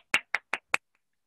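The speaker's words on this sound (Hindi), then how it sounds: "जोरदार तालियां हो जाए" Four quick, evenly spaced hand claps, close and crisp, followed by silence, in a classroom setting.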